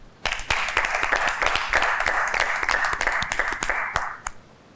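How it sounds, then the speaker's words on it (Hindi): A live studio audience on the reality show Tamasha Season 2 claps together in a dense, steady burst of sharp hand claps that ends abruptly after several seconds, with no voices over it. "सो आप लोग अपने लिए तालियां बजाइए।"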